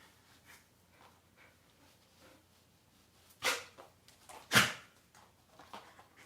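A pet dog indoors during a home stretching session gives two sharp, loud barks a second apart in a fairly quiet room, followed by faint shuffling.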